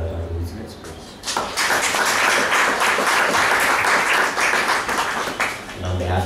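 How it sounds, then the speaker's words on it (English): An audience gives a full round of applause after a lecture on the history of Lo Gekhar Monastery in Mustang, swelling quickly into dense, sustained clapping that carries on for several seconds before easing. "a round of applause for Dr. Luczanits, please."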